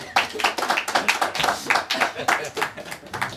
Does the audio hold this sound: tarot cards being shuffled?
no